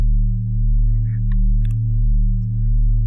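Synth bass built in Ableton Live's Operator, run through Live's default chorus effect, a sustained low tone with a slow, regular swell in level and faint chirpy blips above, close and alone.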